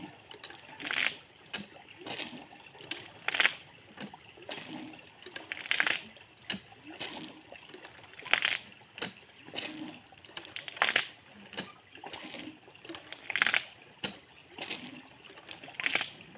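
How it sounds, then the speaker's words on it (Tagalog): A strong flow of water from a large, deep, full tank pours into a bucket, close by, in loud splashing surges that repeat roughly every two seconds over a quieter trickle. "Dito kalakas yung tubig sa amin mga idol."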